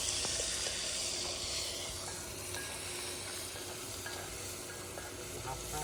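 Onions frying in a pan for a chicken fry dish give a steady, close sizzle and crackle that runs unbroken throughout, with faint stirring scrapes now and then.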